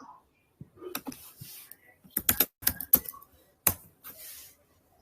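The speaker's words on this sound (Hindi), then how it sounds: "भाई कीबोर्ड से तबला बजाना बंद करो यार," A computer keyboard hammered loudly during an online voice debate, irregular bursts of sharp clacking keystrokes with quiet gaps between, close to the microphone, alongside a brief murmur of voice.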